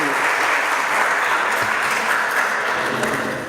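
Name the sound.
audience applause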